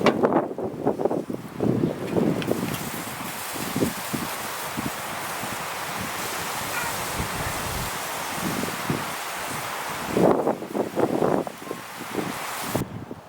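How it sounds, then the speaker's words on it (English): Cold winter wind blows hard during a plowable snowstorm on a farmstead, a steady broadband roar that keeps up throughout with gusty swells and rustling near the microphone, strongest at the start and again near the end. "Glad I got most of this done before this wind picked up"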